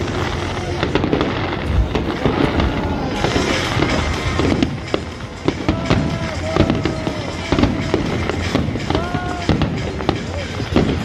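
Fireworks bursting at the Firelight Festival in Melbourne in winter, a dense run of crackling pops and booms mixed with crowd noise and nearby voices talking throughout.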